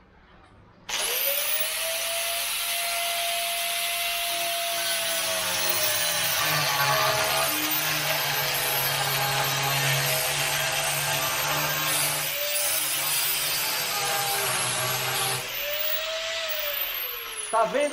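Close, loud angle grinder cutting through a metal pipe in a workshop during Opala V8 work, a steady high scream with shifting pitch over about fifteen seconds, starting and ending abruptly.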